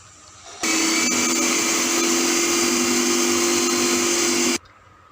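An electric chopper whirs steadily while mincing chicken for kofta, a loud continuous high motor whine starting abruptly, holding for about four seconds, then cutting off.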